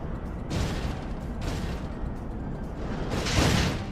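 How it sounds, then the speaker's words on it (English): Cannons firing in Final Fantasy XIV, three broad booming blasts spaced about a second apart over a constant low rumble, with no voices. "Diverting all power to cannons."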